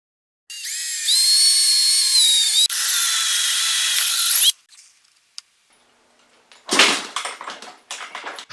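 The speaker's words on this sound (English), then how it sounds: "the logical thing to do is drill some holes" A high-pitched power drill whines steadily in two long bursts into a part from a 1982 Suzuki RM250 motorcycle, followed by silence and then rougher scraping, rattling handling sounds up close.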